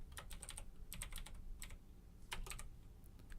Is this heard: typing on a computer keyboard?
yes